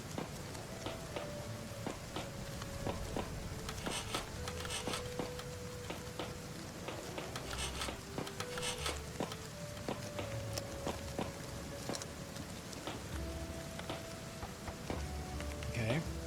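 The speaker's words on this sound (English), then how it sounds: "I feel like this rain is really loud." Rain falls steadily in the colony-building video game Rimworld, a constant broadband patter and hiss with scattered clicks and soft tonal game music running underneath.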